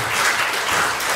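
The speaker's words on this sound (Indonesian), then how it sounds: "Kasih tepuk tangan sekali lagi" Applause from an audience at a church gathering, a steady dense wash of clapping filling the whole moment at close range.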